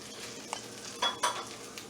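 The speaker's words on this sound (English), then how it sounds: "We got this 2 tablespoons of bacon fat that we're going to melt up in here." Bacon fat melts in a hot pan for gumbo egg rolls, a soft steady sizzle broken by a few brief clinks and scrapes of stirring.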